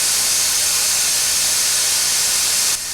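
A steam locomotive gives off a loud, continuous hiss of escaping steam with a sizzling edge, steady and close for nearly three seconds before it drops off abruptly.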